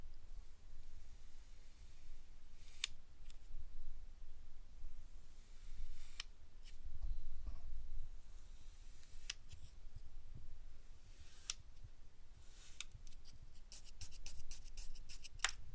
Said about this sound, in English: But Mad Matter can also make a lot of really good sounds.